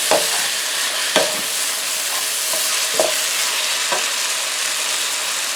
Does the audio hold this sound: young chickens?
no